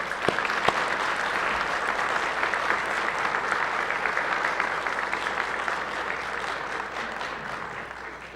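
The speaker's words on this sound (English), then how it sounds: "I think we give them all a round of applause." Sustained applause fills the Senate chamber, a steady dense patter of many hands clapping at even loudness for the whole stretch, with a couple of sharper claps near the start and no voices over it.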